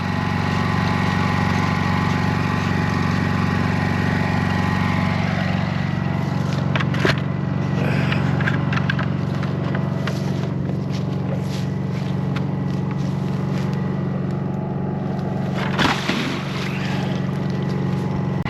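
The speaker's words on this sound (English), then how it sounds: "Pump her down, pump her into the culvert pipe." Motor-driven pump pumping water out of a dug electrical trench into a culvert pipe, running as a loud, constant engine drone throughout with occasional clanks and rustles nearby.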